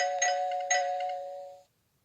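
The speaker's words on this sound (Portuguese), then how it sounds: "Eu poderia simular uma campainha." A simulated doorbell in CadeSimu electrical-control software gives two close electronic chimes, bright and clean, then rings on briefly before cutting off into silence.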